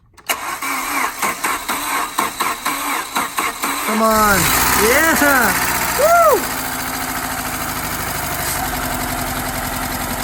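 A Saab 900 Turbo with a dead battery cranks over in a rapid series of stuttering bursts, then fires and settles into a steady, rough idle. Excited voices cheer and shout over the engine.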